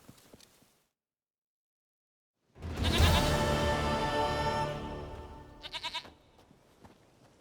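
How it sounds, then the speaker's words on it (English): A goat in The Witcher 3 video game gives a long, loud, wavering bleat close by, followed by a few shorter bleats, with brief faint sounds before and after. "Goat of mine, dearest, sweetest goat."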